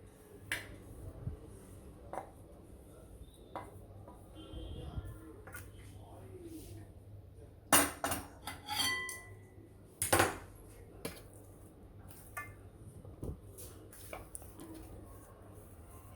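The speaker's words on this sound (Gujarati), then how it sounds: "હવે થાળીમાં એને પાથરી દઈશું." Sukhdi mixture is spread in a ghee-greased steel plate with scattered metallic taps and scrapes of utensil on steel, a sharp cluster of clinks midway, over a low steady hum.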